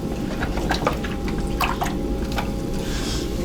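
A pottery sponge is rinsed in a water container beside a potter's wheel, giving soft close drips and squishy splashes over a steady mechanical hum.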